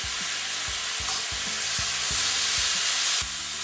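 Tomato paste stirred in a hot pan for garlic ginger chicken, a continuous sizzle overlaid by rhythmic scraping knocks of a utensil against the pan, several in quick succession, up close.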